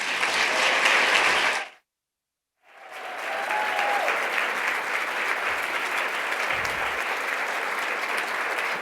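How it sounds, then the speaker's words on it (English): An audience at a talk gives a speaker a loud, dense round of applause. The sustained clapping cuts out to near silence for under a second, then resumes just as strong and keeps going. "can we give her a quick round of applause?"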